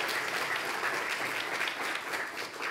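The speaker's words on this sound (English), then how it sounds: "So I'd like to give them a round of applause." Sustained applause from a church congregation at a worship service marking a pastor's 25th anniversary, a dense, steady wash of many hands clapping throughout with no break.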